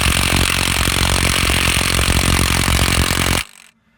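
A Milwaukee mid-torque cordless impact wrench hammers hard and continuously on a stubborn Honda crankshaft bolt, a loud, dense rattling burst that runs for over three seconds before cutting off abruptly into near silence.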